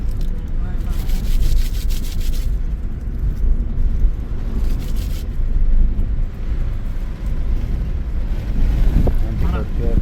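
Loud, continuous wind buffeting and rumbling against the microphone on a hill road near Guru Shikhar, Mount Abu, with gusty low roar throughout and some faint voices underneath.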